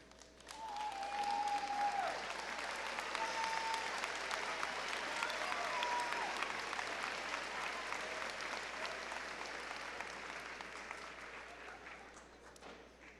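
A large audience at a high school honors awards assembly applauds students receiving honors awards, a steady, dense wash of clapping that swells early, holds for several seconds and slowly tapers off.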